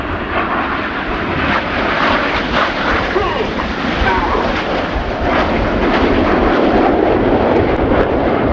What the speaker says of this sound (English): And here they come from the left, the inside aircraft about to roll to the outside, changing smoke colour as they go